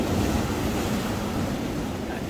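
Irish Sea waves breaking along the Blackpool promenade near the piers, a steady broad wash of surf mixed with rushing wind noise on the microphone, continuous and fairly loud with no talk.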